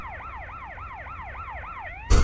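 Ambulance siren in GTA San Andreas multiplayer, a fast repeating wail sweeping up and down about eight times, close and steady, then cut off by a sudden loud burst of noise at the end.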